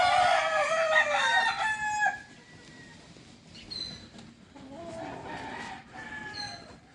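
Fighting roosters crow loudly and close by, one long crow followed by quieter clucks and distant answering crows from other birds.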